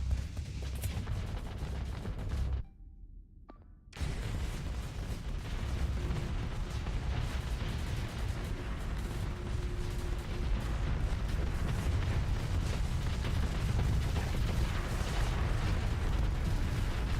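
Mjolnir cannons fire in the space combat game Starsector, a dense, continuous rumbling barrage of heavy shots that drops to silence for about a second before resuming at full strength.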